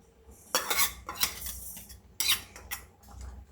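A spoon stirs pumpkin erissery with roasted coconut in a pot, giving several bursts of metallic scraping and clinking against the pot in uneven strokes, close and fairly loud, with quiet gaps between them.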